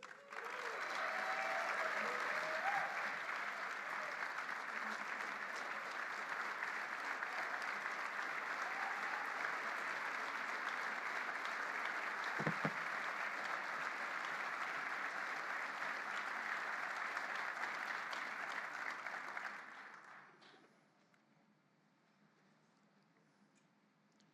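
Audience at an Air Force Weapons School 75th anniversary gathering gives sustained, dense applause for keynote speaker retired General John P. Jumper, a full roomwide clapping that holds steady for about twenty seconds before fading out.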